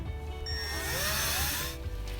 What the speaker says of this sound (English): We can now mount our iWave and secure with our supplied self-tapping screws.